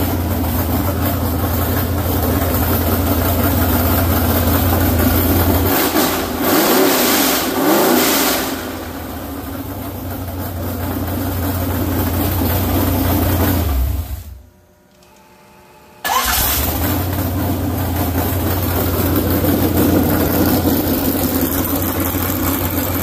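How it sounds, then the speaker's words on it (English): A 383 small-block Chevy engine with a Comp Cams hydraulic roller cam runs loud and close with a lumpy, choppy idle, revving up a couple of times, then briefly cutting out before settling back into its rough idle. "I'm going to start it up and let you hear it run. It's got a comp cam hydraulic roller."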